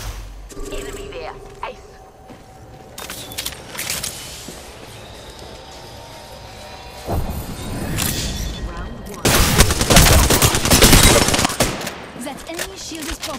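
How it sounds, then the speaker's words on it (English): Rapid bursts of automatic gunfire and heavy booms fill a video game firefight, crackling in dense volleys that grow louder and more intense toward the end, with a voice talking over the shooting. "They're firing on me."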